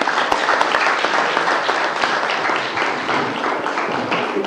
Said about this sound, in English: Let's give Reverend Jackson another round of applause.